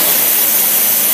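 An engine fitted with a Ball and Ball two-barrel carburetor revs in a short, loud, continuous roar that fills the whole moment.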